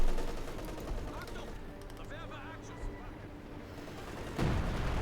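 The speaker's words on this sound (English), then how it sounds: "another artillery strike here by Treadz's Major" An artillery strike lands in Company of Heroes 2 during an OKW versus USF match, with scattered booms and rumbling impacts under battlefield noise and faint whistles, then a heavier blast near the end.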